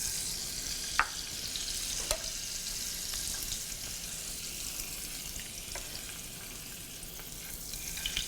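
A Persian potato pancake fries in oil and butter, giving a steady, soft hiss of sizzling with occasional small pops and crackles close by.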